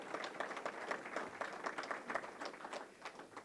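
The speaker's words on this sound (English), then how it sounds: "Let's give the WDBA a huge round of applause here as well." Faint applause at a joint announcement by a bridge authority and a national trail organisation, a modest group clapping in a loose uneven patter, quiet and somewhat distant throughout.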